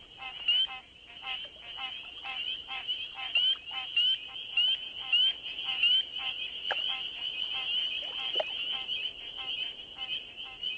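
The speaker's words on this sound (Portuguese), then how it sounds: "O motivo desse alvoroço é um sapo pequenininho, menor que o meu polegar, conhecido como rã de madeira." A chorus of wood frogs calls from a spring pond, with many quick clucking croaks repeating in uneven bursts over a steady high trilling drone, dense and continuous for the whole stretch, with no talk.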